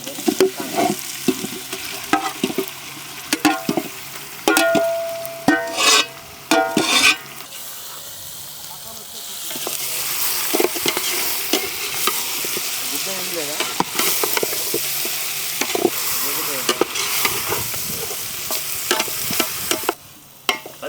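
Country chicken goes into a pot and is stirred: a few sharp clattering scrapes at first, then a steady loud sizzle with spoon scraping through the rest.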